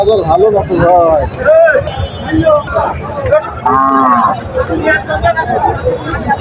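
Cattle moo loudly and repeatedly at a busy Bamundi cattle market, several long calls overlapping with crowd chatter and nearby talking throughout.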